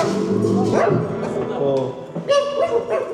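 A voice imitates a dog barking, giving short yelping bow-wow sounds in a room, close and loud, with talk around them.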